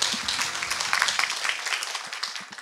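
An audience applauding to welcome a lecturer, a brisk patter of many hands clapping at moderate volume that thins out over a couple of seconds.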